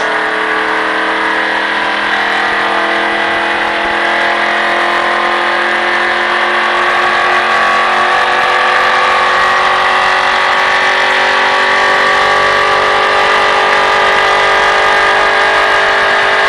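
A car engine hums steadily and loudly while being driven during a practice session, its pitch rising gradually as the throttle is held on, with no speech over it.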